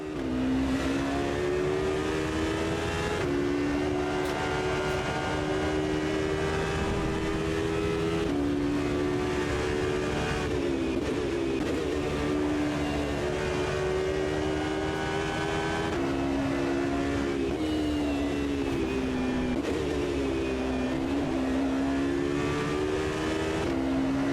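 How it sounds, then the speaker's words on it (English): Race car engines in Automobilista 2 at Road Atlanta, including a Lamborghini, drone loud and continuous, with the pitch rising and falling as cars brake late and accelerate again through corners, and no talk. "this has to be a late braking maneuver against Peter Cox in the Lamborghini"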